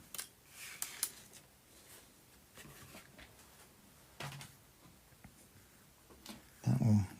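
Scissors snip a small sliver of 0.9 mm card for a model lamp post on a French chateau, giving faint, scattered light cuts and clicks close by, with a louder rustling thump at the end.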